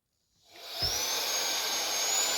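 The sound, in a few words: Meco Eleverde 4-in-1 vacuum suction running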